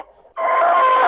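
A rooster among hens lets out a loud, close, sustained crow after a brief softer cluck, with no talking over it.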